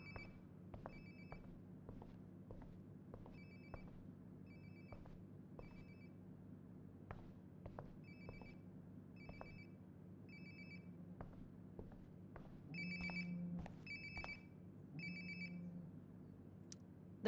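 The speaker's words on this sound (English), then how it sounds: "Sounds like my phone is definitely nearby." A phone rings nearby in the game Life is Strange: Before the Storm, with short, repeated electronic trill bursts at a steady rhythm over a low, quiet background hum.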